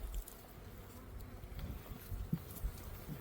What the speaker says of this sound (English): Again, the bees are starting to draw.